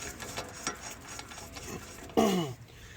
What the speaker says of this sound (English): we'll go ahead and finish removing our axle nut